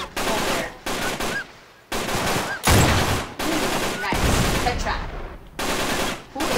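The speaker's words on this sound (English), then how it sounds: "Somebody's shooting at you from the other side." Gunfire in the game Uncharted 3: Drake's Deception, with dense bursts of shooting packed close together and broken by brief gaps, loud and near, plus a faint voice at times.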